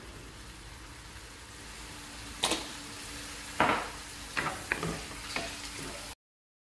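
A savory filling sautéed in a frying pan with salt and pepper, a soft continuous sizzle with a few sharp scraping and stirring clicks near the end, fairly quiet and close.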